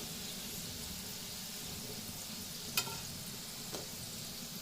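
Ajwain leaf pakodas frying in hot oil give off a steady, even sizzle and hiss throughout, with a couple of faint clinks from a utensil partway through.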